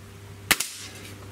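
A Gamo Swarm Magnum .22 breakbarrel air rifle fires a 14.66 grain pellet: one sharp, loud crack followed by a quick second snap, then quiet room hum.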